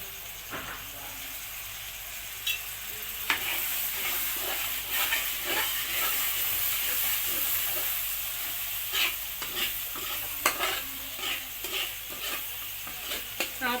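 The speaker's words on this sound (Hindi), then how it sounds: "तेल डाल रहे हैं।" Oil sizzles steadily in a pan while spinach and chana dal fry, with scattered stirring clinks and scrapes over the continuous hiss, close and moderately loud.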